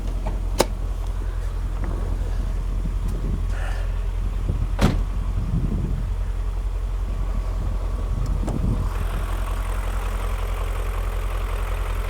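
A BMW E39 M5 engine idles steadily after a crankcase vent valve repair, a constant low rumble with wind buffeting the microphone and a few faint clicks and knocks, no talking.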